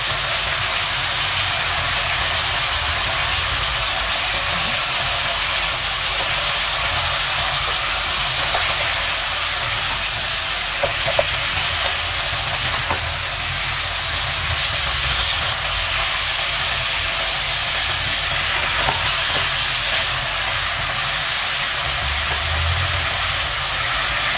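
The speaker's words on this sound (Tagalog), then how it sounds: "Saka natin lalagay yung curry paste. Igisa rin natin sa guys." Curry paste sizzles as it is sautéed in a pan for chicken curry, a steady, loud frying hiss that carries on without a break and with no talking.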